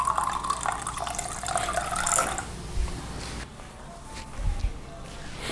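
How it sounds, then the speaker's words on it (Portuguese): Water is poured from a tap or jug into a pot of Bahian moqueca fish stew with dendê oil and coconut milk, a steady splashing stream that fades into light drips while a person talks. "Eu vou pôr um pouquinho de uma água"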